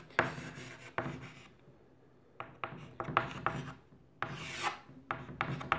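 Chalk or a marker scratches across a board in short rasping strokes, several quick bursts of writing separated by brief pauses, close and fairly quiet, with no talk.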